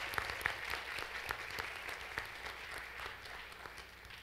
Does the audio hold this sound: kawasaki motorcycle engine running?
no